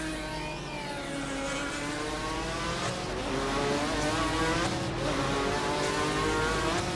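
A 2010 Maytech Ford GT GT1 race car in a racing game holds a loud, sustained engine drone whose pitch slowly climbs, with no talk over it.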